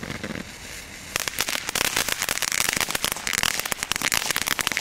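Aldi consumer fireworks crackle and bang outdoors in a dense, rapid barrage of sharp pops that builds to a continuous crackling after a brief quieter start.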